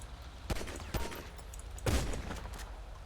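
Gunshots from GTA 5 police-patrol gameplay: about three sharp, loud reports spaced unevenly, each with a low rumbling tail over a steady game background, and no talking.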